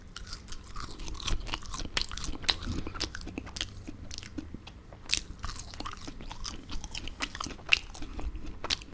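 Close, crisp crunching as crunchy food is bitten and chewed, irregular sharp crackles repeating throughout with brief quieter gaps between bites.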